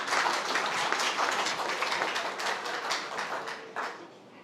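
An audience at a startup pitch contest claps for a presenter taking the stage. The applause is lively and closely packed, with distinct individual claps, and thins out over a few seconds.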